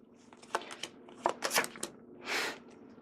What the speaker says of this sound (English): you're going to shuffle up the lesser vampires